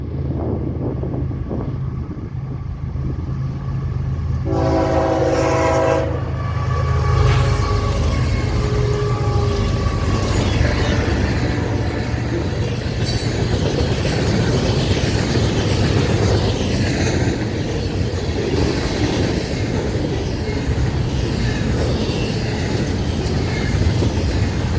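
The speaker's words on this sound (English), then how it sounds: "I'll say my piece after the train goes by." An FECR freight train passes through St. Augustine, Florida, at CR 206, its horn blaring in several loud tonal blasts before the rolling, clattering rumble of railcars continues steadily and close by.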